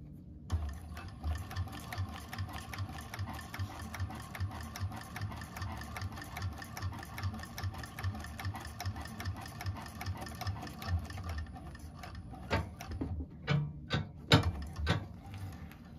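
A 1341 cylinder arm sewing machine stitching a seam on a bag, its rapid mechanical needle chatter running steadily and close, then breaking into a few short bursts near the end.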